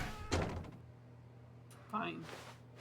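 A door opening in The Stanley Parable video game, with a soft thunk early on and a second muffled door sound about a second and a half later, both moderately close.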